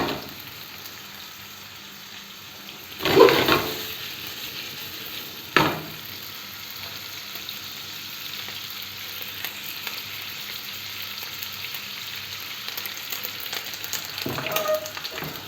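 Boiled chicken gizzards sautéing in oil in a frying pan give a steady, close sizzle throughout, broken by a couple of loud splattering bursts and an occasional stir.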